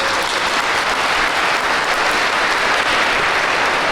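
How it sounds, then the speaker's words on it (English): Loud, continuous applause from the audience at an Essex County police academy graduation ceremony honors Officer Crystal Felder, a dense and even wall of clapping lasting about four seconds with no talk. "So I'd like to give her a round of applause."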